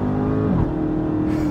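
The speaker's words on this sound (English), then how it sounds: "I just wanna burn out these tires all day." A Dodge Charger Hellcat widebody King Daytona roars through a sustained tire burnout, its engine note loud, close and continuous, with a low rumbling drone that shifts pitch briefly partway through.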